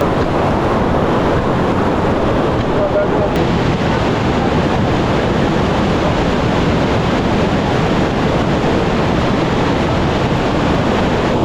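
Waterfall in remote Swedish mountains: a loud, steady, unbroken roar of rushing water fills the whole scene at close range, with no pauses or other distinct sounds.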